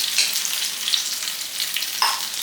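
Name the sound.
dried red chillies frying in oil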